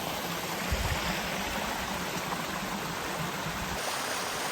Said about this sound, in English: there's a big waterfall back here